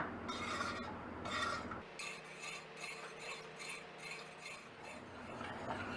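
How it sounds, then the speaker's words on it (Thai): A spoon stirs coconut agar pudding mixture in a pot over medium heat, making steady rhythmic scraping and light clinks against the metal, faint and close. "แล้วก็คอยคนตลอดเวลาเพื่อให้ผงวุ้นละลายดีค่ะ"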